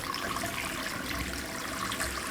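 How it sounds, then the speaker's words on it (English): Water from a tap rushes in a steady, dense broadband flow with no pauses, loud and constant throughout, and no voices. "Flowing water in a tap"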